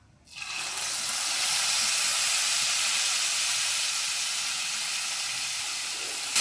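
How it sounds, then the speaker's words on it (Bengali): Ground ginger, tomato and green chili paste frying in oil for a soya chaap curry, giving a loud, steady hiss that swells up within the first second and holds evenly, with no talking. "ছোটা একটু ভেজে নেবো বেটে রাখা আদা টমেটোর কাঁচা লঙ্কাটা দিয়ে দিচ্ছি"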